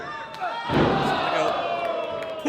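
A wrestler reversed into the turnbuckle at a Prestige Wrestling match, one heavy slam and rattle from the ring followed by crowd noise, with a commentator talking over it.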